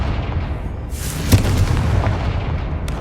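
Spell explosions from Bombarda and Confringo in Hogwarts Legacy land as a burst and a sharp boom with a short rumbling tail, loud and close, with no talking.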